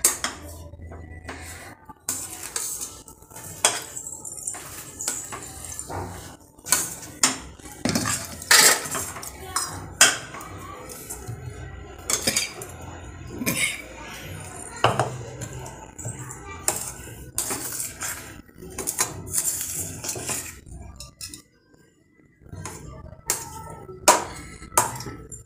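A hot palkova mixture is mixed in a pan with the heat off. Repeated metal clinks and scrapes of a spoon against the pan sound up close and irregularly throughout, with a brief pause near the end.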